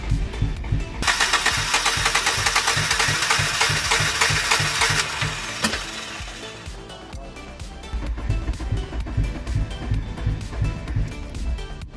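1994 Nissan Sentra coupe engine cranking and then running roughly, a steady loud mechanical drone with a harsh rising whine that fades, then an uneven chugging rhythm.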